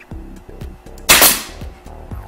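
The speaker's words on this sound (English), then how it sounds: "go ahead and attach it with our staple gun" Sharp, close staple gun shots fastening the back panel of a subwoofer box, several punchy snaps with one especially loud crack in the middle.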